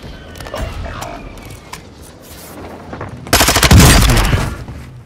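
Gunfire in Call of Duty Warzone 2.0: scattered single shots and faint voices give way to a loud, close rapid burst of automatic fire.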